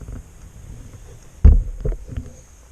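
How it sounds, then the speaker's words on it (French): A single sharp plastic click as a Renault Twingo II exterior mirror connector tab snaps into place over faint background hiss, followed by a couple of softer handling taps. "On a entendu le petit clic de la languette."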